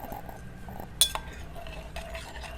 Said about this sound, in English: And now we stir until the ends of the ages.